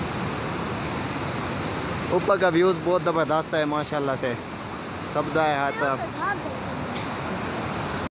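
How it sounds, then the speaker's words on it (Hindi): Clear mountain water flows from rocks in Kalam valley, Swat, a steady broadband rush that stays constant under someone speaking in the middle. "यहाँ देखें पानी आ रहा है"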